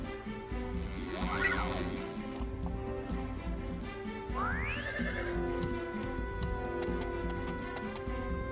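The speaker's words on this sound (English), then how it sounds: "Nice horses." Horses in Heroes of Might & Magic 3 give two distinct whinnies, one early and one midway, over a steady background of hoof trotting and ambient game sound.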